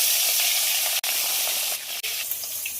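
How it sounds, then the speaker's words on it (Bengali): Fish sizzles steadily in hot oil in a wok, a dense crackling hiss with two brief dips in the middle and no voices. "মাছ ভাজার জন্য কড়াই বসিয়ে দিয়েছি, তেলও দিয়ে দিয়েছি"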